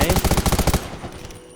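Automatic gunfire in the video game Undawn, a rapid burst of about a dozen loud, evenly spaced shots that stops abruptly, followed by a fading echo.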